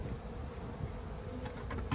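Honey bees buzz in a steady, close, dense drone while a hive is opened for a spring inspection, with no talking.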